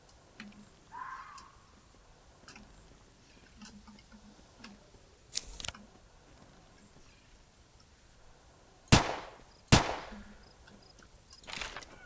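Gunshots ring out while hunting dinosaurs in a marshland in the game Carnivores Fallen Kings. Quiet ambience breaks for a couple of sharp, loud reports about a second apart, with a few fainter shots before and after.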